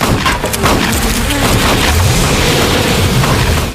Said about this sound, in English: Before killing Adam, Garnet ordered his men to shoot Adam's beehive.